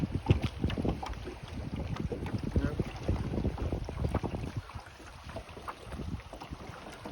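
Gusty wind buffeting the microphone on a backcountry canoe trip, loud irregular rumbling blasts throughout, easing slightly toward the end, with faint water sounds beneath.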